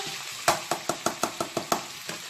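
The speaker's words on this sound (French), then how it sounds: "Je verse de l'ail." Garlic goes into a pan of frying green and yellow peppers, giving a steady sizzle with about eight sharp, evenly spaced scraping or tapping strokes over two seconds, close and fairly loud.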